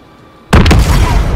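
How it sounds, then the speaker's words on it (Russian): A car explodes in Call of Duty Modern Warfare (2019), a sudden loud, close blast that cuts through near-silence and leaves a dense roaring rumble of debris and fire. "Взрывай машину, Алекс."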